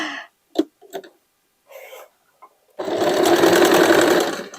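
A sewing machine stitches denim with a wide triple zigzag stitch, starting after a few soft handling noises and then running steadily and loudly, with a fast even whir to the end.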